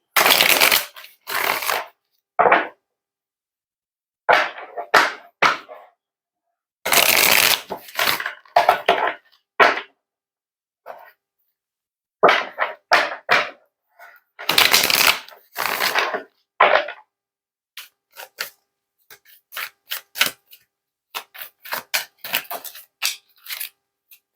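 Tarot cards are shuffled and drawn in a quiet room, with bursts of riffling and crisp slaps separated by silent gaps, close and clear with no talk.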